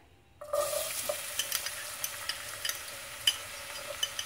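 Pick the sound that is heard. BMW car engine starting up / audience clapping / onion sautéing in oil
onion sautéing in oil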